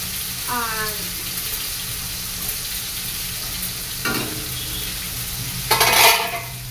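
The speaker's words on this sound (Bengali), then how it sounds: "এদিকে আলু ভাজাটা হয়ে গেছে, নাড়িয়ে নেবো" Fried potatoes get stirred in a pan over a constant low sizzle and hum, with a couple of brief scraping bursts near the end.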